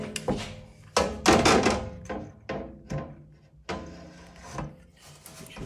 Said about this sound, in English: We'll come in with our rivet gun here.